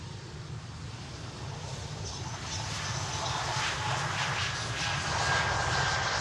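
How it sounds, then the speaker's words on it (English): Jet airliner engines roar steadily at Amsterdam Schiphol airport, a loud continuous broadband rumble that builds gradually as an aircraft passes close by, with no talking. "off to Stockholm, the E195 Embraer E2."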